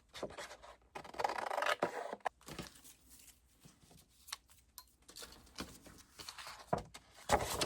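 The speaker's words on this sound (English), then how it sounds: "I'm going to go ahead and trim this border off" A paper border is trimmed off a journal page: soft, intermittent rubbing and scraping strokes, close and quiet, in irregular bursts with pauses between.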